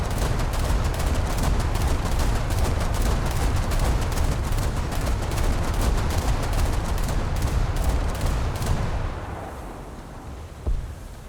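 Rapid, continuous aircraft gunfire from a War Thunder plane, a dense crackling burst lasting about nine seconds before cutting off to quieter engine drone with one brief thump near the end.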